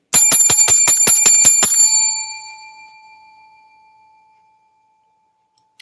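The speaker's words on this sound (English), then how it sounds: "I found the bell, you guys." A handheld bell is struck in a quick burst of about eight bright, evenly spaced rings, then its metallic tone fades away slowly into silence, loud and close with no talking.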